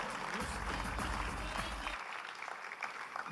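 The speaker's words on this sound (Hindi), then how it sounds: "मैं एक बार फिर चाहूंगा कि अपने लिए जोरदार तालियां बजाएं" Loud applause from an audience at an RCM company event, a dense steady wash of clapping with a low rumble underneath that thins and eases off during the final second or so.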